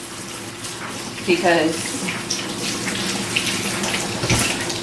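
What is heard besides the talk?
water running from tap while washing hands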